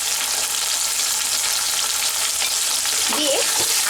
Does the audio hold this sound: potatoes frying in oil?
yes